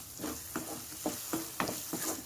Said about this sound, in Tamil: நல்லா அடி பிடிக்காமல் நல்லா கிளறி விடுவோம்.